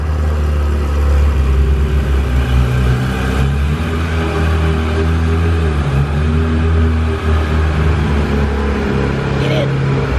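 A Porsche engine cold-starts and settles into a loud, steady low rumble with slight fluctuations, idling close by throughout.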